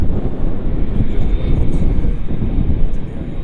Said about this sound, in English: How far is this Ryanair? Is it going to land again?